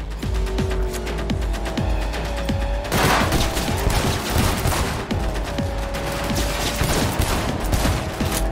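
Sustained automatic gunfire from a car window in Cyberpunk 2077, rapid rattling bursts with a heavier volley starting around the three-second mark, loud and continuous throughout with no speech.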